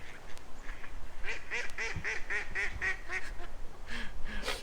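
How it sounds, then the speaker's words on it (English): A goose honks close by in a rapid, evenly spaced series of loud nasal calls, with a few scattered squawks trailing after. "That goose thinks it's hilarious."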